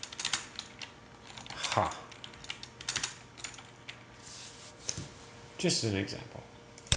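Typing on a computer keyboard, bursts of quick light key clicks running throughout, close and fairly faint, with someone speaking briefly over them.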